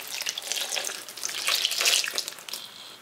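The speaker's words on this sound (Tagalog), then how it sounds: "lagyan natin ng tubig para malaga po natin" Tap water pouring and splashing into a cooking pot being filled to boil eggplant in an indoor kitchen, a steady close rushing stream with small fluctuations.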